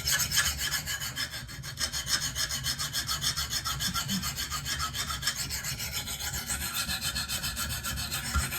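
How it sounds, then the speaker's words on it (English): A Benchmade Steep Country knife is drawn across a stone on a KME sharpener in quick, even back-and-forth strokes, a close, continuous rasping scrape with no voices. "I'm just gonna sharpen until I get a burr"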